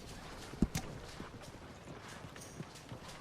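Horse hooves clip-clop faintly across the ground while a rider urges the horse on, with a couple of sharper hoof strikes near the start over a soft, distant background.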